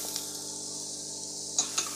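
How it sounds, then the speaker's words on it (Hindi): Chopped vegetables and boiled chicken pieces fry lightly in a little oil, a soft steady sizzle with a couple of faint stirring clicks near the end, quiet and without talk. "बस 1 से 2 मिनट हमने इसको फ्राई करना है सब सब्जियों को।"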